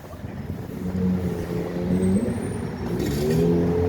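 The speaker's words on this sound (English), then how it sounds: "Here comes your truck." Truck engine arriving at a single-car accident scene on a Boston street, a rising motor drone with a brief hiss of air brakes near the end.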